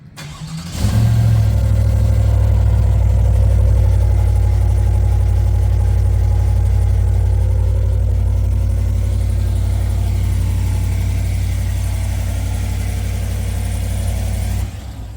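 A 6.2L GMC Sierra truck with its stock exhaust starts up and settles into a steady, deep idle close by, its low rumble continuous and loud with no talking.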